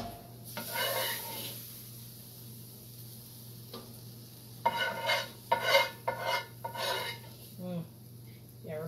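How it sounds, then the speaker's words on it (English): A gumbo roux is stirred in a pot, the utensil scraping and clinking in a run of short, uneven strokes through the middle of the clip over a low steady hum, with faint sizzling and no talk. "Stir it around."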